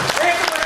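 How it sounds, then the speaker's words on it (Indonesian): Audience applause at a Partai Demokrat party consolidation gathering in Bengkulu, a brief burst of dense clapping filling the room, with voices mixed in. "Tepuk tangan dulu."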